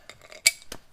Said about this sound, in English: So I drop my socket.